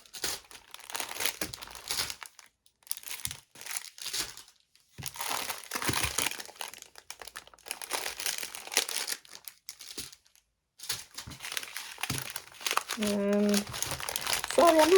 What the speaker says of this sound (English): I'm sorry for all this wrinkly crinkling.